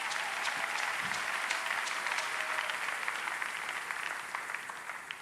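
A congregation applauds steadily during a French-language church service, a dense, sustained wash of many hands clapping close and loud for several seconds, gradually easing toward the end.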